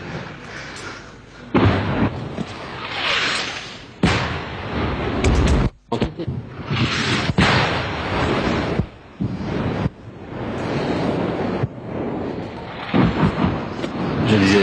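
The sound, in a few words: distant French artillery shells falling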